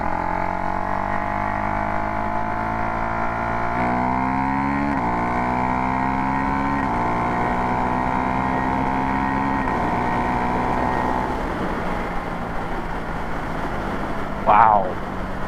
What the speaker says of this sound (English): The bike even sounds a little throatier.